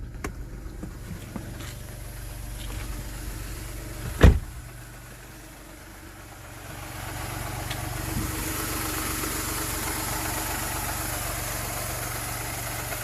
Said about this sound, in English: leave it a little bit to run, to warm.